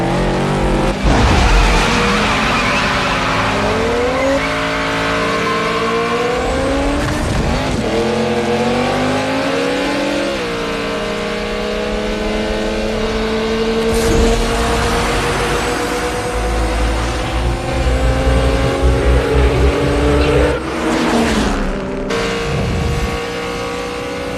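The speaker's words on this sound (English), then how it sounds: "They line up for a quarter-mile race" Cars in a quarter-mile street race: engines roar and rev through rising and falling gear pitches while tires squeal and skid, loud and close, with brief shifts and bursts of acceleration, no talk.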